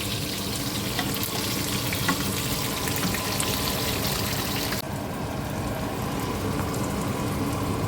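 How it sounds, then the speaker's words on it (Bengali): Kajuli fish frying in hot oil, a loud, dense, continuous sizzle that holds steady throughout, brightest in the first part and slightly duller toward the end. "একটু কাজুলি মাছ ভাজি"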